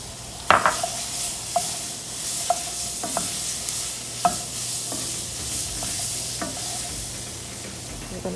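Chopped onions and celery hiss and sizzle in hot fat as they are stirred into a dark gumbo roux, a constant frying crackle broken by scattered sharp knocks of a spoon against the pot.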